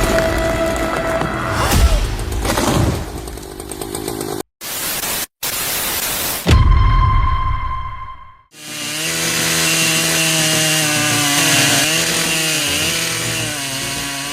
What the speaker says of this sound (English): This guy is wielding a Husqvarna 3120 XP chainsaw with 7 horsepower to take down a towering 65-foot tree.